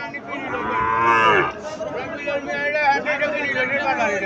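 A Sahiwal calf at a cattle market in Mirshanni, Cumilla, gives a loud, drawn-out moo close by, while market chatter and people talking carry on around it.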